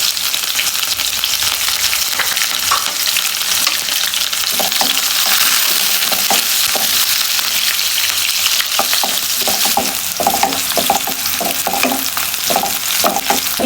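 Chopped garlic, onion and chili frying in a pan, a loud, continuous close sizzle with frequent scraping and clinking of a spatula stirring through it.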